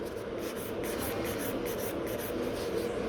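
A nail file rasps steadily across the free edge of a gel nail, a continuous close scratching with faint rhythmic strokes and no talking.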